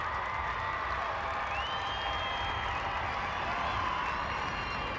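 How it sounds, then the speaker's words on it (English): A stadium crowd at a USA versus Canada women's soccer friendly gives a sustained, distant roar of cheering and applause, a steady wash of noise with no talk over it. "That got a rise out of the crowd."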